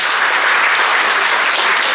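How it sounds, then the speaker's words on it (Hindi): Loud, sustained applause for a retiring colleague at a farewell gathering, many hands clapping evenly for about two seconds with no talk over it. "आप लोग जरा जोरदार तालियां बजाएं"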